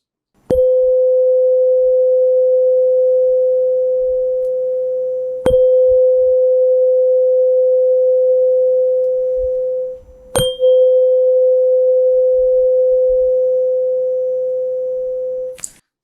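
Tuning forks, one marked 512, are struck three times in turn. Each gives a sharp tap followed by a pure, steady hum that slowly fades, loud and close, with no talking.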